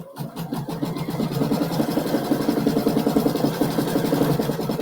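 Embroidery sewing machine stitching free-standing lace for a St Patrick's pin, starting up and settling into a steady rapid mechanical whir and rhythmic needle chatter, close and continuous.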